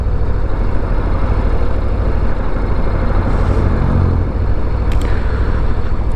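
A 2023 Harley-Davidson Low Rider ST engine rumbles steadily up close, a low, fairly subdued exhaust note throbbing continuously with no talking over it.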